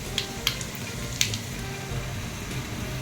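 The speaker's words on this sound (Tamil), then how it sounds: "எண்ணெய் சூடானது இதில் வந்து கடுகு, ஜீரகம், கொஞ்சமாக வெந்தயம், கடுகு உளுத்தம் பருப்பு நான் இதிலே கலந்து வச்சுருக்கேன். தாளிச்சிக்கலாம்." Mustard seeds, cumin, fenugreek and urad dal tempering in hot oil for sambar, a low steady sizzle with a few sharp pops and crackles up close.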